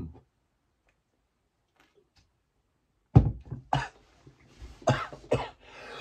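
A man coughs hard several times in quick succession after running three miles home during a football pub crawl. The coughs are close, loud and uneven, following about three seconds of near silence.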